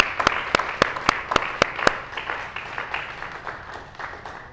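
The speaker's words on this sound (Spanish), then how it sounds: "Vamos a darle una ofrenda de palmas a nuestro Padre Celestial." A church congregation claps as an offering to God: a burst of sharp, rapid claps at first, then thinning into scattered, softer clapping that fades out.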